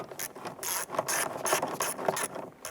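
Ratcheting wrench tightening an exhaust manifold flange stud nut on a 1999-2004 Jeep Grand Cherokee, a series of short, close metallic clicking strokes in steady rhythm.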